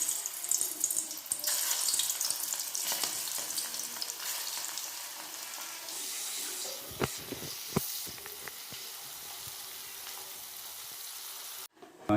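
Prawns coated with chili powder, turmeric and salt fry in hot oil, giving a steady broad sizzle throughout, broken midway by a few sharp clinks and stirring knocks before it cuts off at the end.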